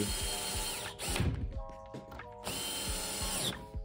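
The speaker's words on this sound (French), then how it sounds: "on vient visser du coup notre armature au tasseau de bois restant" A power screwdriver drives screws through a metal frame into a wooden batten, whirring in bursts with ratcheting clicks and brief pauses between runs, close and steady, with no talking.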